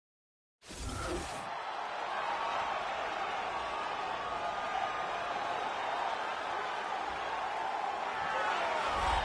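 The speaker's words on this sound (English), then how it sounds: "the crowd pops as this guy makes the walk to the octagon" Arena crowd in the UFC 3 video game roaring for a fighter walking out to the octagon; the noise cuts in abruptly and holds as a dense, steady wall of cheering for several seconds.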